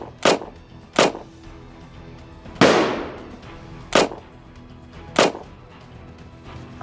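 A SWAT team fires into the attic of a house during a hostage rescue: five sharp, loud gunshots at irregular intervals, one followed by a longer roaring blast that decays slowly.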